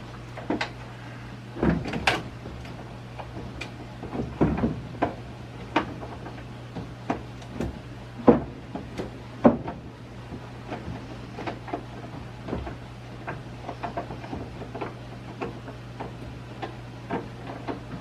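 A driver door on an old rusty Dodge truck is fitted and shifted into place, giving a series of sharp metallic knocks, clunks and taps at irregular intervals over a steady low hum.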